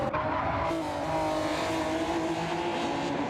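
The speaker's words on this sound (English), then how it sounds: "Brakes into the final braking zone." A race car in a sim racing game at Interlagos brakes hard into the final braking zone, engine roaring steadily while tires squeal continuously, loud and sustained throughout.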